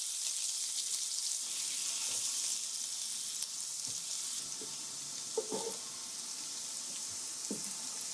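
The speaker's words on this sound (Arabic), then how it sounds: "وهون بعد ما ذابت الزبدة أنا ضفت البصل والفلفل وبقلبها لمدة دقيقتين." Onions and peppers fry in a mix of melted butter and oil, giving a steady high sizzle with occasional soft knocks and scrapes as they are stirred.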